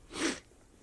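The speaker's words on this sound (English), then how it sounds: "But I'd like to blow my nose first." A person blows their nose once, a short breathy honk of under half a second, close and fairly soft, then quiet.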